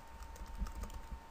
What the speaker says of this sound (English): and we'll type in a name.